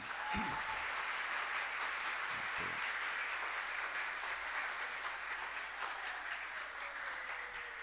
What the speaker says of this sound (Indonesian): Tepuk tangan semuanya. Tepuk tangan.